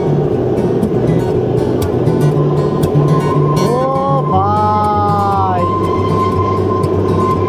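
A train near Shimla rumbles steadily along the tracks on a curve, loud and close, with a long horn-like tone sounding midway.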